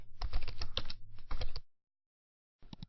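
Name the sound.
typing on a computer keyboard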